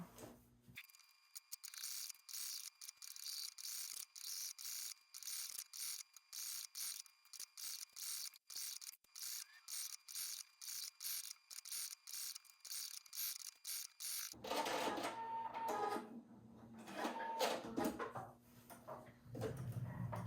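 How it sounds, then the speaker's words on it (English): A sewing machine zigzag-stitches an appliqué onto a shirt, a fast steady mechanical whir with rapid needle clatter running close and loud for about fourteen seconds, then stopping, with some handling and rustling noise afterward. "Open up my shirt, stick it in, and start sewing."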